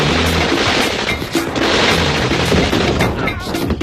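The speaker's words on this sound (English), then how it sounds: "It sounds like machine guns." Dense, loud machine-gun fire from a drive-by shooting, sustained bursts of rapid overlapping shots and booms filling the whole stretch, close and harsh.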